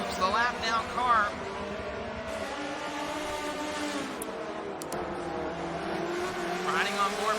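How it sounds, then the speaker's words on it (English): A race car in a GT-R Cup racing video game at Catalunya passes on track, engine droning steadily and shifting pitch as it goes by, with commentary talk over it. "And here it comes, the lap down car."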